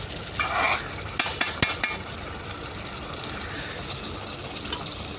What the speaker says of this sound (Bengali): এই যে আমরা ঢাকাটা একবার খুলে দিলাম একবার নাড়াচাড়া করে নিচ্ছে